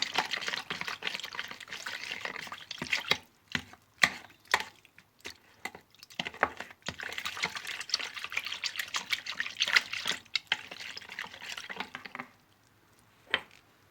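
Warm water is poured into dough for tahini buns, already salted, with splashy, uneven pouring bursts close by, broken up by brief clicks and knocks of a bowl and utensils, then fading quiet.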